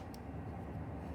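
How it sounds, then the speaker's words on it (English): A steady, low rumbling roar holds evenly throughout, like a train passing nearby, with no voices. "That's a train."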